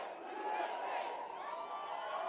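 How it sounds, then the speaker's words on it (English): A large crowd roars with cheering and chanting, a dense, continuous wall of voices that stays loud and steady throughout. "What an unbelievable crowd"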